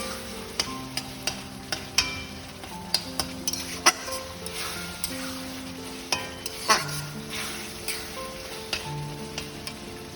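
Chowmein ingredients are stir-fried in a pan, with a steady close sizzle and frequent sharp scrapes and clinks of a spatula against metal in an irregular rhythm, no talking.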